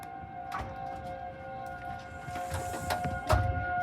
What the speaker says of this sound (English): I just heard a siren wind up and then go down.